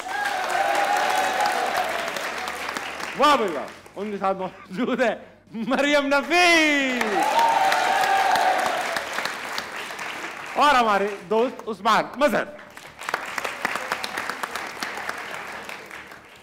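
Studio audience on a Pakistani cricket talk show applauding the guests: bursts of loud clapping that swell and drop, broken by a host speaking over and between them.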